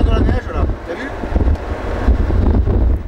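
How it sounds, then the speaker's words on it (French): Wind buffets an outdoor microphone in a steady, gusty rumble while a person speaks over it in French. "il y a un peu de vent, hein."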